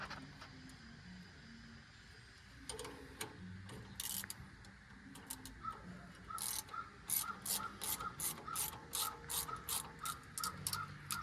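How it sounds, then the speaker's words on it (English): A tensioner rod is ratcheted to tighten the chain on a Timberwolf firewood processor, quiet clicks that build into a fast run of regular ratcheting clicks, with metallic shuffling and no talking. "Now you can go ahead and thread your tensioner rod in."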